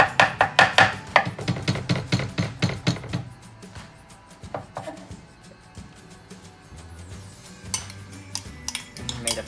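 Garlic, black garlic and onion are chopped on a board with rapid, sharp knife strikes at first, then slower scattered taps and scraping as the pieces are worked into a paste.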